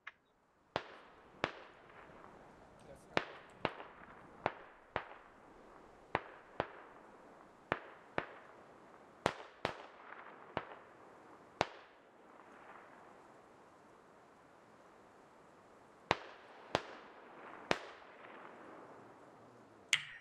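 Sharp, spaced gunshots echo through the tactical shooter game Squad as a squad suppresses a compound, about twenty loud cracks in irregular bursts with reverberant tails and short pauses between.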